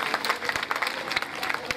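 Crowd clapping at a Hindu Bhagwat katha gathering, a steady, dense patter of many hands with a few faint voices and tones mixed in.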